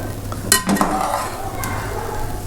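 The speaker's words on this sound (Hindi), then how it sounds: "अब हम इसको अच्छी तरीके से मिक्स करेंगे" A spoon stirs sweet, colored zarda rice in a pot, giving a couple of sharp scraping clinks against the metal before softer mixing sounds continue under a faint background hum.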